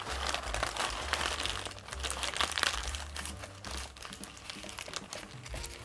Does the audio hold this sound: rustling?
yes